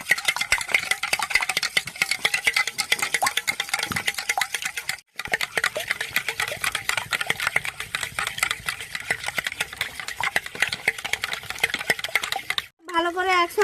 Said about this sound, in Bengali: ভালো করে আমি গুলিয়ে নেব সবগুলোকে একসঙ্গে।